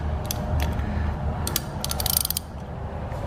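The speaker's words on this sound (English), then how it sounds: "I'm going to take an Allen wrench" An Allen wrench turns out the screw that holds a spring inside a Power Team SPX hydraulic cylinder, giving close, quick metallic clicks and ratcheting ticks over a low steady background hum, with no talk.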